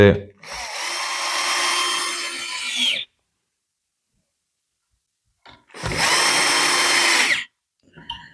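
Bosch Professional impact driver driving screws in two loud, close bursts a few seconds apart, each a rattling motor whir lasting a couple of seconds, with silence between them and brief handling knocks.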